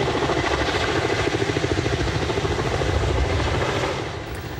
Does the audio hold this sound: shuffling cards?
no